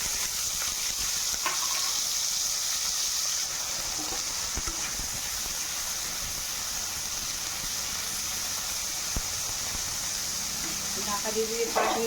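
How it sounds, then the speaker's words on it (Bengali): Bitter gourd and potato pieces frying in oil in a wok give off a steady hiss and sizzle, with occasional clinks and stirring sounds against the pan. "এবার এখানে কেটে রাখা ভালো করে ধুয়ে নিয়েছি করলা আর আলু একসঙ্গে সব কড়াইয়ের মধ্যে ছেড়ে দেবো।"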